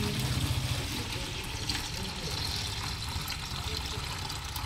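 Mineral water pours steadily into a container, a close, continuous gurgling trickle of moderate loudness with no pause.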